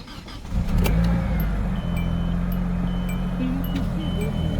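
An old 30-year-old car engine turns over and catches, then settles into a steady, loud, low idle that rumbles on close by through the rest of the clip.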